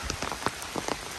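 Rain pattering steadily on a wet hiking trail where runoff flows down like a creek, with scattered louder drops over a constant hiss, close by and without voices.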